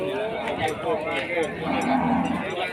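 Cattle at a Sunday livestock market in Ban Chat, Thailand, lowing amid a busy crowd, with steady market chatter and voices throughout the short stretch.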